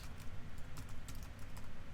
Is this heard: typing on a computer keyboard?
yes